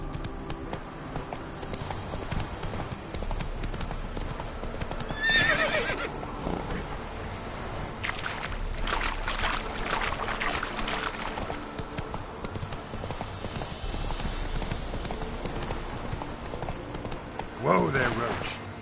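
Roach, a horse in The Witcher video game, with steady clip-clop hoof beats running throughout and a neigh or whinny breaking through near the end, while a person talks over the game sound.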